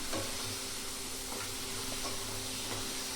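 One and a half chopped tomatoes with rock salt sautéing in a pan, giving a quiet, even sizzle and hiss with a few faint stirring touches and no talking.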